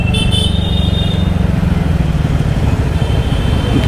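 A TVS Ntorq Race XP scooter rides through city traffic, its engine holding a steady low drone amid the roar of surrounding cars and bikes, with a brief faint horn toot early on.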